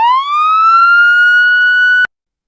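A single loud ambulance siren wails alone, its steady tone rising at the start and holding before cutting off abruptly after about two seconds.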